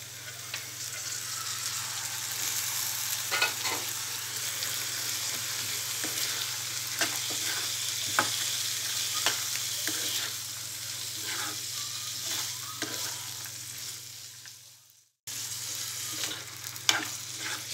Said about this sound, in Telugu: అల్లం వెల్లుల్లి పేస్ట్ వేసిన తర్వాత ముందుగా నానబెట్టిన పచ్చి శనగపప్పు వేసుకోవాలి